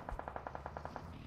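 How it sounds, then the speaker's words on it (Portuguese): Rapid automatic gunfire in the PUBG Mobile battle royale game: about ten evenly spaced shots in a quick burst, fairly faint and distant, with no talk over it. "Tem tiro na esquerda também."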